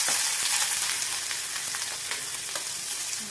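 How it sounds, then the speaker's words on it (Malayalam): Coconut oil sizzles and crackles steadily in a hot pan, a loud continuous frying hiss lasting throughout with no voices. "നമുക്ക് ഈ പാത്രം ചൂടായിട്ട് അതിലേക്ക് വെളിച്ചെണ്ണ ഒഴിച്ചു കൊടുക്കാം."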